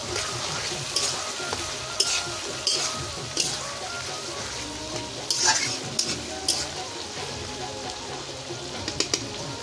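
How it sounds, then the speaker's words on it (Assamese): Broiler chicken meat frying in plenty of oil with spices, a continuous close sizzle broken by repeated sharp stirring scrapes and clinks of a utensil against the pan. "মছলা দি পুৰা ভাজিলোঁ আৰু হৈয়ে গ'ল মাংস"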